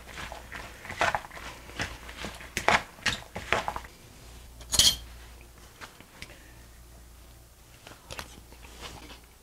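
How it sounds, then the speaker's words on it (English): Tabbouleh salad being tossed in a bowl: irregular soft clatters, scrapes and wet crunchy rustles in uneven bursts, moderately close, with quieter pauses between. "So we'll give this a good mix."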